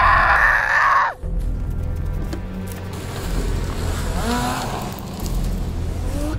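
A loud, high scream opens the clip and cuts off after about a second, followed by rumbling, engine-like noise and scattered sounds.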